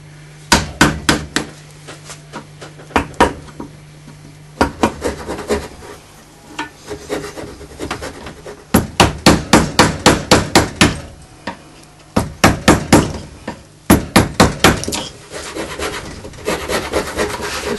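A gouge carves a carp in walnut wood, driven in bursts of sharp, rapid wooden knocks. Clusters of close, loud taps are separated by short pauses, with no talking.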